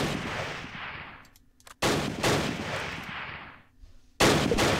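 Sustained bursts of automatic gunfire pour onto a building in the video game Close Combat, several loud, dense volleys broken by short lulls, with a fresh burst erupting near the end.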